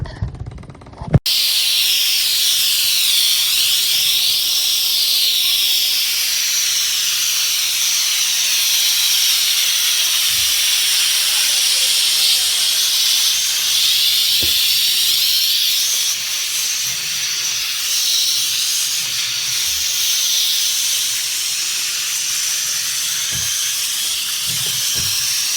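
A Bissell PowerFresh Lift-Off pet steam mop gives off a steady, loud hiss of steam for the whole stretch, with faint knocks and mop movements on a hard floor beneath it and no talking.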